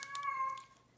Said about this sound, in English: Oh, that's my kitty cat. He's fine, he's just talking.